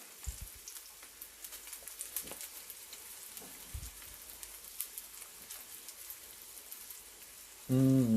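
Homemade bacon frying in a pan, a soft scattered crackle and spitting of fat at low level with occasional louder pops, ending in a brief louder tonal noise.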